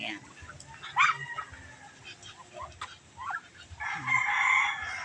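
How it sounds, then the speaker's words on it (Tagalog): A rooster crows on a farm where ducks are kept, several short crowing calls close by over a dog barking and people talking, with a louder, longer crow near the end. "May kasama silang manok."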